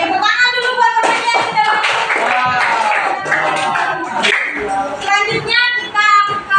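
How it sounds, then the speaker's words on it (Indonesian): Classmates in a year 8 classroom clap for a fellow student: fairly loud, brisk clapping from a small group that keeps going throughout, with children's voices calling out over it. "tepuk tangan dulu buat temannya"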